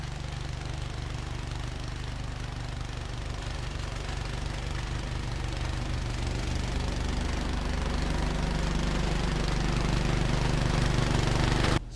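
A snowblower engine runs steadily outdoors, loud and close with a rough, knocking mechanical drone that grows slightly louder toward the end while it throws snow.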